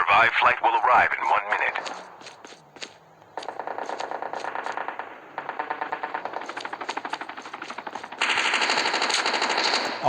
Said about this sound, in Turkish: Abi biri sıkıyor.